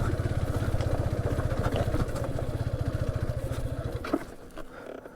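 A Yamaha FZ V3 motorcycle engine runs close by with a steady, throbbing low pulse that holds for about four seconds, then loosens into rougher, uneven firing as the bike struggles on a rough road.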